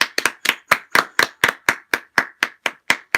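One pair of hands claps close by in an even, steady rhythm, about thirteen sharp, distinct claps in a row with short gaps between them.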